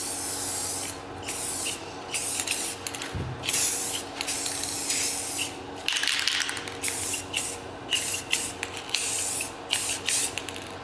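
Spray can coating distressed wood in bursts of paint, sharp hissing sprays repeated in short uneven pulses with brief pauses between, close and fairly loud, with some rubbing noise.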